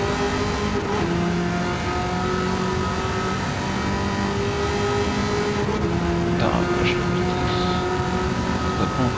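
A 1000-horsepower car in the video game Gran Turismo 7 drones steadily at high revs, with sustained engine tones holding and shifting pitch over the length of the race, while people talk over it.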